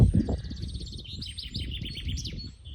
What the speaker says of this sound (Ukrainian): Ану, послухайте, як співає пташка.